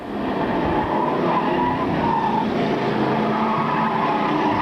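Race cars running side by side on an oval track in 1996, a steady dense roar of engines with tire noise throughout, continuous and loud with no gaps.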